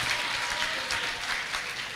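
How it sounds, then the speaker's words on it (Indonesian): A school audience claps for a student named Ihsan in a continuous, even round of applause at moderate loudness, with no voices standing out. "Tepuk tangan buat Ihsan, bagus sekali ya."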